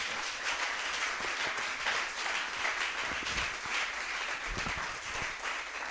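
A church congregation at a Pentecost service applauds in sustained, steady clapping that fills the room evenly from start to finish, dense and mid-distance.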